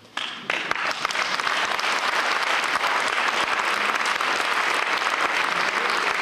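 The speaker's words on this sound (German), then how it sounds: "Ich bin froh, dass Sie das mit einem Applaus quittieren" A large audience at a lecture in Berlin breaks into applause, a quiet start quickly swelling into dense, loud, sustained clapping from many hands that holds steady to the end, with no talk over it.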